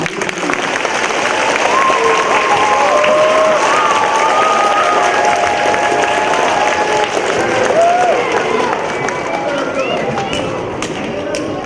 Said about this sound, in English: Would you give him a round of applause again?